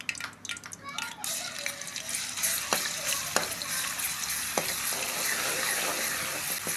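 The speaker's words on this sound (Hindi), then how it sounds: "अदरक और लहसुन को ज़्यादा नहीं भूनेंगे, सिर्फ 1 मिनट तक इसको अच्छी तरह से भूनेंगे" Ginger and garlic paste frying in hot ghee with cloves, a continuous close sizzle with occasional utensil clicks and scrapes, and a voice briefly audible early on.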